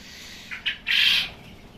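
Grown quails at a quail farm give a few short calls, two brief chirps and then a longer squawk, nearby and moderately loud against a low background.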